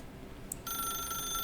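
A telephone rings in the video game The Stanley Parable, a faint electronic trill starting partway in and continuing steadily over a low background hum.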